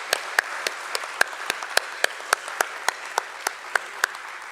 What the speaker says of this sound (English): I think we need to give a huge round of applause for this.